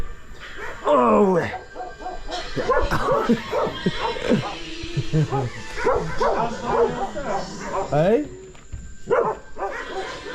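Dogs bark, yip and whimper in repeated bursts, close and loud, mixed with people talking nearby.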